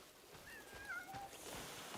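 A fat cat in Crimson Desert gives two or three soft, high meows in quick succession, quiet and close over a low hiss of background ambience.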